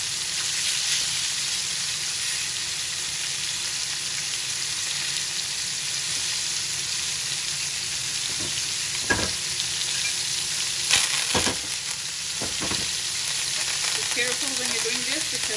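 Ribeye steak frying with fresh herbs and garlic in a hot pan, a loud continuous sizzle and hiss with a few sharp pops and crackles of splattering herbs toward the end.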